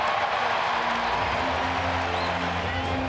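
Large sellout crowd cheering and roaring inside Globe Life Park, Texas Rangers ballpark, on baseball opening day against the Astros; a steady, dense wash of crowd noise from start to end with faint voices mixed in.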